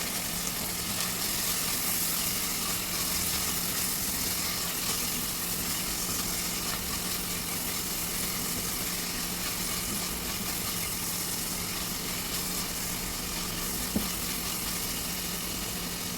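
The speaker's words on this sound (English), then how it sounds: "Let's add in 1/4 teaspoon of salt to this, so that the tomatoes will become nice and soft. And let's give it a stir." Tomatoes with salt sizzle steadily in a pan, a constant close hiss of frying with faint stirring scrapes underneath and no talking.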